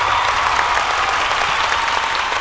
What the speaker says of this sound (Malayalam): ചേച്ചിക്കൊരു വലിയ കൈയടി കൊട്ടാരക്കരയിൽ.